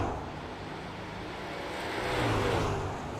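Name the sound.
race trucks roaring past on Bristol track in iRacing video game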